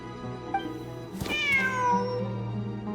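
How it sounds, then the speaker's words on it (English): A cat meows in the video game Genshin Impact amid desert ruins: a single clear, drawn-out meow with a falling pitch, close and distinct over soft ambient game music. "Wait, there it is! The cat!"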